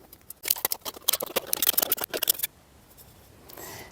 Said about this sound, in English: For this one, I'm going to use the scissors because the knife's going to make it messy.